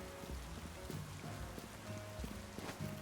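Rain falling in Pokemon Legends Z-A, a soft, steady patter of drops on surfaces, faint and continuous with light scattered taps, no talk.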